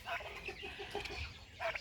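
Young BIG-6 turkey poults give soft, high chirps in short, scattered bursts, faint and close by with no talking.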